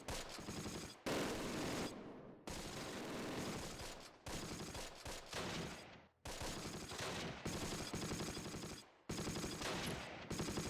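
Gunfire from the WWII video game Close Combat: The Longest Day, dense bursts of machine-gun and rifle fire in long stretches broken by short silent gaps, with no talk.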